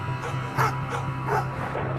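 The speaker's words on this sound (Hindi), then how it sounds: "दूर से कुत्ते भौंकने की आवाज" Distant dogs barking and yipping on a dark, windy village road at night, a few faint, muffled barks rising over a steady low background hum.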